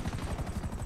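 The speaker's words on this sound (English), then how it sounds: "I'll come in there with a helicopter." A helicopter in GTA 5 drones steadily with a pulsing rotor chop, close and continuous throughout, with no talk over it.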